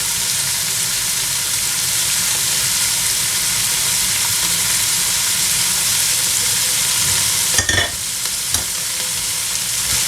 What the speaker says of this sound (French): fais revenir mes poivrons